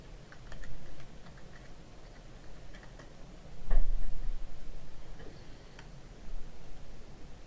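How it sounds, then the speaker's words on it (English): Someone types comments on a computer keyboard, giving soft, irregular key clicks with a few louder bursts of taps and no talking. "go in and type comments"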